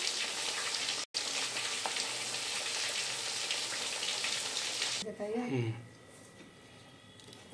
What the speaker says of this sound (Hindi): हम सबटा माछ के तैर के निकाल लेब।